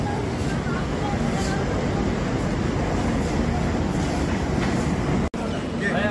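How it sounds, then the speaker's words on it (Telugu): Passenger train standing at a railway platform with a steady loud rumble and hiss of the station throughout, with a brief sharp drop near the end. "మనల్ని కాశీ తీసుకెళ్లే ట్రైన్ ప్లాట్ఫామ్ మీద రెడీగా ఉంది."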